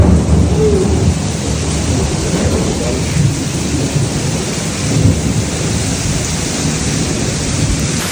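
A thunderstorm with heavy rain heard from inside a camper van during a riverside camping stay, a steady loud wash of rain drumming on the roof with low thunder rumbling underneath throughout.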